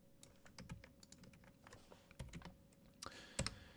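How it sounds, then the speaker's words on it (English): Fingers tapping on a computer keyboard in bursts of quick, irregular keystrokes, close and fairly quiet, with a few sharper presses near the end and no talking. "Hit enter on our keyboard"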